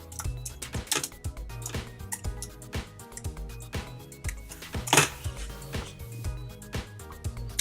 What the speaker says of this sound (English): I'm just going to type in a random name.